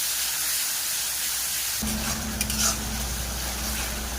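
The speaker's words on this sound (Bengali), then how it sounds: "এবার পেঁয়াজ, টমেটো, কাঁচা লঙ্কা কুচি দিয়ে," Chopped onion, tomato and green chilies drop into hot oil already holding cardamom, cloves and cinnamon, so a quiet background turns suddenly into a loud, steady sizzling hiss.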